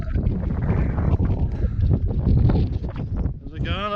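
Strong wind gusts roar across a mountain ridge during a grade 1 scramble in the Glyderau, a loud, steady buffeting rush against the microphone that fills the whole stretch.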